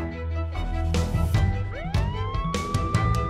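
An ambulance siren sounds on the way to a stroke emergency, its tone sweeping upward in a rising wail over a busy, layered background of other sounds.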